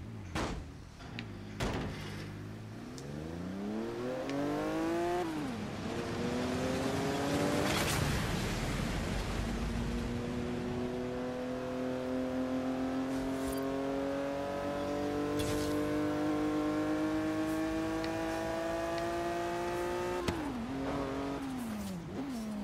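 Car engine in the Forza Horizon 3 video game revving up through rising gear changes, pitch climbing and dropping at each shift, then cruising at a steady loud drone before another shift near the end; no speech.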